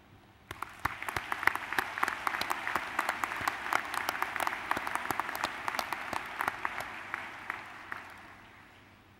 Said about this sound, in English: give yourself a round of applause and another round to all those who have supported you